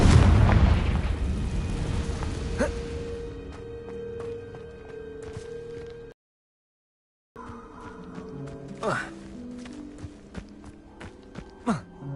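Confringo fire-spell blasts in the Hogwarts Legacy video game: a loud booming burst opens, then the sound thins out, goes silent briefly, and returns with several sharper pops and cracks over game ambience.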